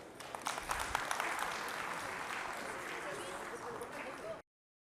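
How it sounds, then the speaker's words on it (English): Applause from a conference audience for Praveen, steady broadband clapping at moderate level for about four seconds, with some voices mixed in, ending abruptly. "please give a warm round of applause to Praveen"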